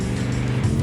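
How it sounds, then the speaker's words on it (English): Engine of a blown Ford Thunderbird running with a misfire, a steady close low rumble with uneven pulses throughout, with no talk. "I feel kind of self-conscious about the misfire."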